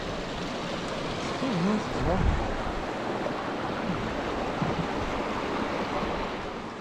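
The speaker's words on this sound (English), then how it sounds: "Still the same river." Steady rushing water from a river near Bannerdale Crags in the Lake District flows close by, a broad continuous wash with some wind buffeting the microphone.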